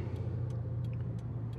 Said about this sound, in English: It's a Camaro.